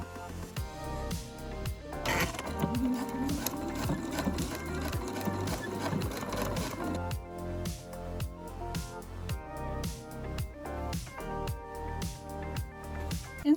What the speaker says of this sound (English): then we're gonna just top stitch this down